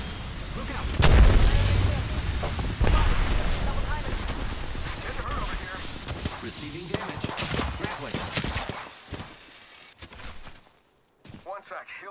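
Gunfire in the video game Apex Legends: dense, loud bursts and booming shots with rapid automatic fire, under excited voices shouting, thinning out near the end.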